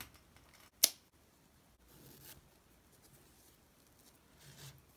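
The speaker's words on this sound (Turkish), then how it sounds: "Burada ipi keseceğim" Scissors make a single sharp snip through crochet yarn while a bag is being finished, a brief close click near the start followed by faint soft rustling of the yarn in a quiet room.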